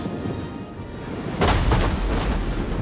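Siege artillery firing a normal round in Total War: Rome 2: a sudden deep boom about midway, with rumbling decay and a couple of follow-up thuds over steady battlefield ambience.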